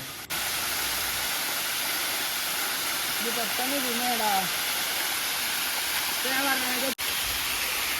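Paloor Kotta waterfall in Kerala roars as a dense, constant rush of falling water close by, with a couple of faint birdlike chirps or voices briefly over the steady hiss.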